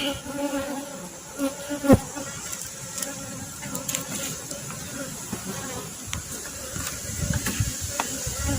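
Honey bees buzzing around their hive, a dense close drone with faint passing buzzes of individual bees and some clicks and rustles, steady throughout and fairly loud.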